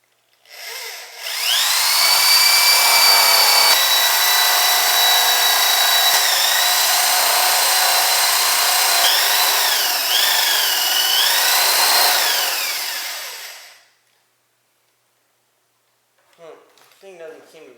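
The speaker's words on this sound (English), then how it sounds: "now that I'm done with that, I'll move on to drilling the big holes." An old Makita drill bores big holes in pallet wood with a loud, high whine that holds for about eleven seconds, its pitch dipping and wavering as it bites. It winds down to silence, then a voice speaks briefly.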